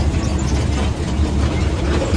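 Steady low rumble of a train ride to a water park, a dense continuous roar heard close up with no talk and no distinct events.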